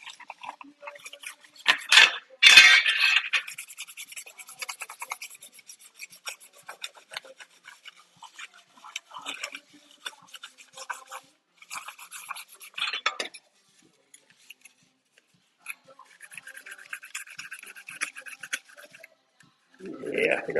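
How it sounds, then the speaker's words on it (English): A surface is scuffed with a mild abrasive in a garage before rattle-can painting, producing close, intermittent scratchy rasping strokes, louder at first and then lighter and sparser with short pauses. "I'm just putting little cuts in everything. I'm scuffing it up so that when I shoot this with paint, the paint has something to stick to"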